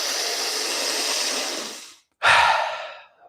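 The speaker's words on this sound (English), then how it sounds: "Keep going for 5 more breaths." Deep breathwork breaths, a long forceful exhale followed after a brief pause by a sharp strong inhale, close and loud with no talk.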